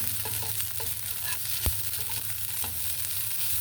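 Radish sizzles steadily as it is sautéed in a hot pan, a continuous frying hiss with a few soft stirring clicks and one sharper tap, close and fairly loud throughout, no voices.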